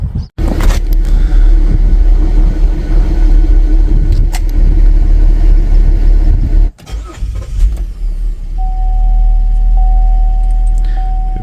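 The engine of a 2011 GMC Acadia with a faulty purge valve cranks and catches after a hesitation, a loud close rumble that briefly dips and stumbles before settling into a steady idle with a faint whine.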